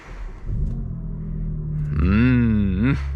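A 2023 BMW M2 G87 with a 460 hp engine idles with a low rumble, then revs up sharply in a rising, falling howl before settling back, loud and close.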